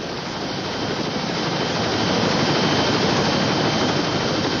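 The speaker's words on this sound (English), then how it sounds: "have the Coast Guard chopper land and fly the boy out" Steady, loud broadband roar of a Coast Guard helicopter's engine and rotors during a medical evacuation of a six-year-old boy, continuous and close with no break, no voices.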